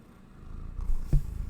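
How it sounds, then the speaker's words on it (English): Soft, low rumbling purr from a cat close by, rising gently over a quiet background with a brief louder flutter near the end. "You can probably hear him purring,"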